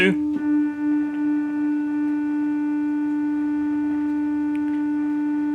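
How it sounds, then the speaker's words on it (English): Filter on a Memorymoog synthesizer self-oscillating as a sine wave that breaks up erratically, a sustained steady tone with stacked harmonics after a brief unstable onset. "You hear it's kind of erratic, and we can't hold the sine wave."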